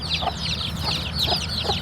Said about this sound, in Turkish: Tavuk, tavuk.